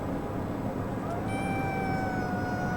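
A cat gives a drawn-out rising meow that holds and slowly falls, heard alone against a steady background hum, fairly close and clear.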